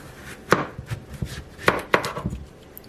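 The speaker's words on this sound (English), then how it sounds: "So I'm gonna cut it in half." A knife chops through a pasteles ingredient on a board, a few sharp separate cuts with short pauses between them, close and fairly quiet, with no talk.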